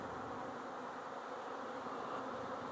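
Honey bees buzz steadily at a small hive entrance, a dense, continuous hum close by and unbroken, with no voices.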